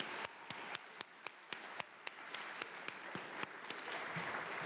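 An audience applauds speakers at a school writers' week session, steady dense clapping with a few sharp, close individual claps standing out over roughly five seconds.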